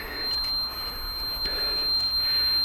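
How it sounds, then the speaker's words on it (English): A steady high-pitched electronic tone from a wood moisture meter beeps continuously over a faint background hiss, with soft clicks and taps scattered throughout, while testing firewood. "Still beeping."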